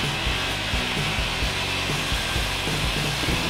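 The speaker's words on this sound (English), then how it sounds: "So we're gonna try to square up this center leg with the circular saw" Circular saw squaring up the center leg of a barn wood bench, a steady loud whine with repeated rhythmic bursts as the blade bites into the wood, close and continuous with no talk.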